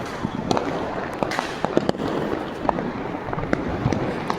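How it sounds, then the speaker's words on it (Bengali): Diwali fireworks and firecrackers burst all across Coimbatore city, Tamil Nadu, a dense continuous crackle of near and distant pops and bangs over a steady roar. "শহরে কানাচে চারিদিকে বাজি ফাটছে"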